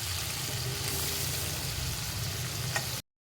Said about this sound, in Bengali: এখানে গোটা ধনে, জিরে, আদা বাটা, কাঁচা লঙ্কা পেস্ট দিচ্ছি। সাথে দেবো টমেটো কুচি। এই যে বেশ করে আমি কষিয়ে নেব।